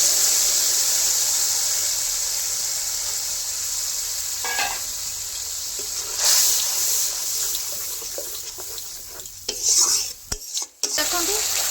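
Ground spice paste of cumin, onion, garlic, dried chilli and ginger sizzles steadily in hot oil in a pan for fish curry, with intermittent scraping stirs and a few louder clinks of the spoon against the pan near the end.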